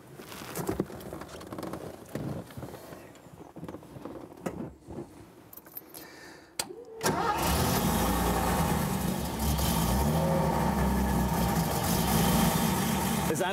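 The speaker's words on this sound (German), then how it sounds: "Es ist einfach immer wieder toll, so ein Auto zu starten und den Sound zu hören." A Mercedes 300 SL Roadster engine cranks briefly over some quiet handling noises, then catches and settles into a loud, steady, full-bodied idle close by.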